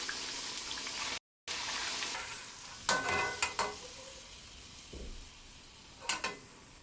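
Plantain bajji fry in hot oil, giving a continuous bright sizzle with a few sharp clinks and scrapes from a utensil stirring the pan.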